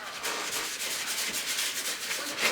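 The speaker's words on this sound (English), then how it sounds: "Now I'm lightly sanding all of this." Steady, light scratchy rubbing of sandpaper over a metal stove hood, close and continuous with a soft back-and-forth rhythm.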